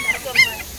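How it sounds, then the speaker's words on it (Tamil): A mother dog with newly born puppies gives two short high whimpering yelps, close and brief, over a quiet background. "இங்கே வந்து பாருங்கள், ஒரு நாய் வந்து குட்டி போட்டிருக்கு."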